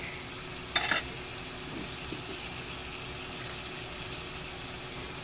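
Pork meat sizzles and frying in a pan as it is stirred, with a brief clatter of the utensil near the start over a steady hiss.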